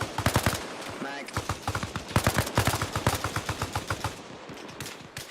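Automatic gunfire in the Arma Reforger game at close range, with rapid bursts of loud shots crackling one after another almost continuously, some single cracks mixed in and brief voices underneath.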